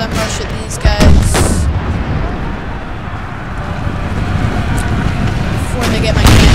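Cannons fire during a siege of Richmond in a Civil War video game, with rumbling booms and a dense, loud wash of battle noise and wind-like roar throughout.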